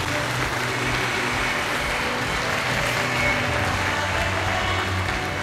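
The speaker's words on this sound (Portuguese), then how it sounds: "Você pode aplaudir a Jesus bem forte." A church congregation applauds during a worship service, a steady, dense wash of clapping hands that holds at an even level throughout with no clear gaps.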